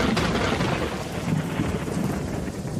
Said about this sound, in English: Oh, bring on the rain.